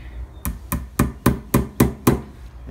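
A hammer taps a metal cabinet corner piece into a leather-covered cabinet edge, seven sharp, evenly spaced knocks close by with no talking.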